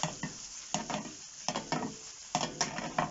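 Cooked pasta tossed in a sizzling pan of garlic, oil and chili, heard as a series of short, fairly quiet sizzling whooshes and rattles at an uneven rhythm, with no talking.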